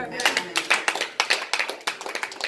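Congregation clapping in a church service to acclaim the Lord, a burst of uneven rhythmic handclaps with some voices mixed in.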